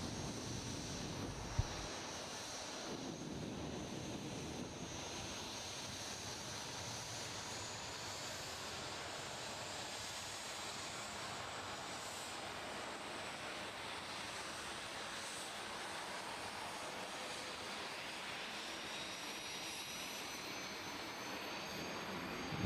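Jet dragster engine running at a drag strip, a continuous roaring whoosh that stays steady for a long stretch with a slowly shifting high whine, heard from some distance with no talking.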